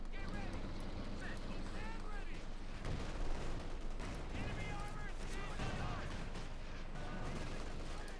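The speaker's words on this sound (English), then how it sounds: "Panther 4 taking hits with the bazookas." Bazooka fire striking German Panther tanks during a Company of Heroes 2 battle between OKW and US Forces, with steady gunfire, explosions and battle noise running throughout under continuous game commentary.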